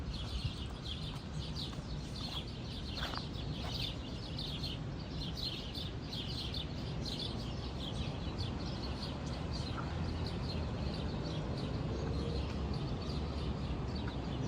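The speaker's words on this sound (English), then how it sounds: "How's that for birds chirping vibes?" Many birds chirp and tweet outdoors among trees at sunrise in Toronto, scattered calls over a steady background hiss, fairly distant.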